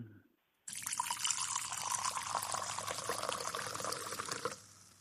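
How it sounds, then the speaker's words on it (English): Merlot wine poured steadily into a glass, a continuous close liquid splash lasting a few seconds, then stopping, with no talk. "I'm gonna pour."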